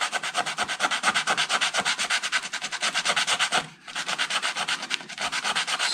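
Rhythmic back-and-forth rasping of 180-grit sticky-back sandpaper on wooden acoustic guitar top braces, close and steady with a brief pause midway before the strokes resume.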